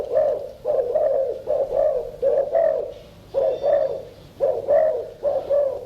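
Doves coo competitively at a bird cooing contest in Thailand, a steady series of close, mellow repeated coos in short rhythmic bursts separated by brief pauses, from 1972.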